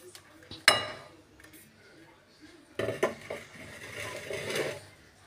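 A spoon stirs ground spices together in a bowl, clinking and scraping against the sides in two bursts of loud clatter with quieter rubbing in between, and no talk.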